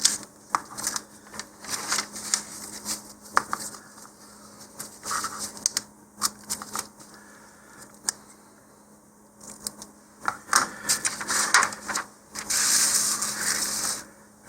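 Scissors cut through the paper of an Estes Alpha VI model rocket's printed instruction sheet to free the shock cord mount, giving a run of close, irregular snips and paper rustles with brief pauses and no talk.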